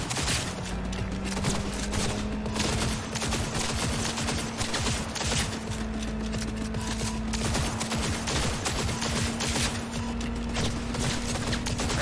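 Relentless rapid gunfire in a video game, dense unbroken bursts of shots with no pauses, loud and close, over a low steady engine-like hum.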